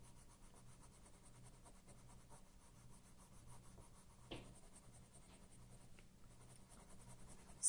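Colored pencil scratches and rubs softly across paper in steady, close strokes, blending colors with a medium grip; faint and continuous with no talking.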